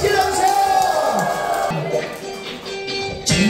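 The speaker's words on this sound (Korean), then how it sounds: "자 박수 한번 소리 질러주세요" Participants in a Korean singing class cheering and shouting with whoops and yells in a lively burst, with a voice rising over the crowd noise near the end.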